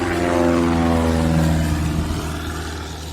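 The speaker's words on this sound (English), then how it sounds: "we're getting ready to get to see a plane take off." A small propeller airplane takes off from an airfield, its engine droning loud and steady with strong harmonics, the pitch rising and then gently falling as it pulls away and fades slightly.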